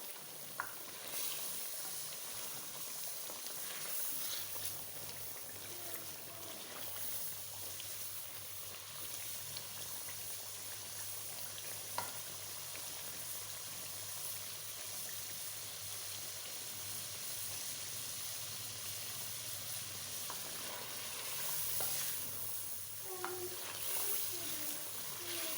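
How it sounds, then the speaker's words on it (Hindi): Chicken meat being fried and stirred with masala in a pan for chicken kadhi, a soft, steady sizzle with faint scraping of a spoon, quiet and continuous throughout. "अभी एक दफ़ा इसको अच्छी तरह भूनते हैं ताकि मसाला जो है ना इसके गोश्त के अंदर तक लग जाए"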